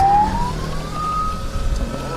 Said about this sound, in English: We are hearing sirens. So, okay, so that's the police behind us.